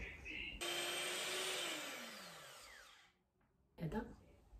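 An electric mixer whirs loudly through mint and coconut cake batter, running steadily for a few seconds, then briefly cutting out before starting up again.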